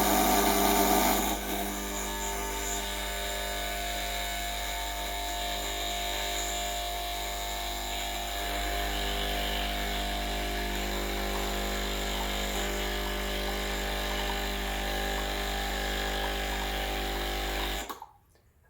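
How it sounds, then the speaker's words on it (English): Breville Barista Express espresso machine, hot after several shots, giving off a steady buzzing drone from its solenoid valve, continuous and fairly even before cutting off abruptly near the end. "occasionally when the machine is hot and after a few shots, it tends to make a noise with the solenoid valve"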